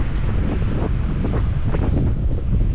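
Strong wind buffets the microphone on a street in Albufeira, Portugal, with a constant low rumble and roar, gusting slightly throughout, with no voices.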